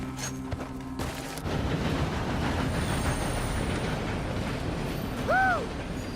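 A passing train in the video game Red Dead Online rumbles and clatters continuously, a loud, dense rolling rush that builds after a brief quieter start and carries on with a sharp whistle-like tone near the end.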